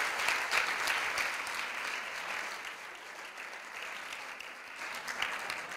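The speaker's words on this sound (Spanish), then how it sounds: "le vamos a dar un aplauso a Ileana" Audience applause at a secondary-school STEAM and engineering-design teaching session, a steady wash of many hands clapping that holds level for about six seconds with no talk over it.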